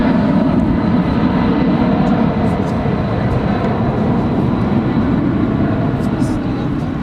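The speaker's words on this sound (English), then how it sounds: "Look at UPS Flight 2906 heading to Phoenix, Arizona, 767-300ER, and rolling down." A UPS Boeing 767-300ER rolls down a runway for takeoff at Dallas Fort Worth International Airport, a loud, steady engine roar held throughout with no talking.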